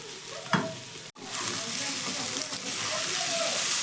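Cauliflower pieces frying in a pan, a loud continuous sizzle broken by a brief clatter and a short gap, then resuming with stirring scrapes and bubbling crackle.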